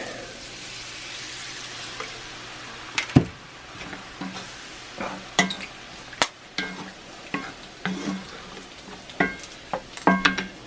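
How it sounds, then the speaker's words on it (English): Cold milk stirred into bacon gravy in a cast iron pan, with a low sizzle throughout and scattered scraping clinks from the utensil against the iron, growing more frequent toward the end. "Stir in the milk."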